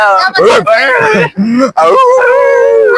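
A dog howls and whines up close in long, wavering cries, broken by a couple of brief pauses.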